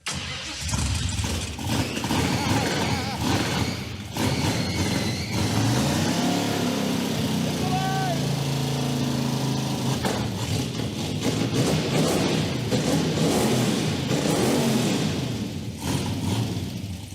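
A car engine with side-exit exhaust roars loudly and continuously nearby, its rough, throaty exhaust rising and falling as the throttle is blipped, with faint voices underneath.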